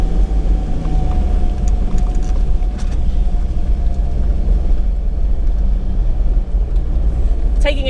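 A car's engine rumbles steadily from inside the cabin while it drives, a constant loud low drone with faint road noise throughout.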